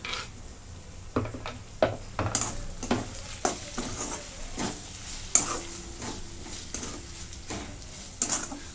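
Green chili is tossed into a pan with roasted tomato and stirred: a low sizzle under a run of close, sharp spatula knocks and scrapes at an uneven pace, with no talking.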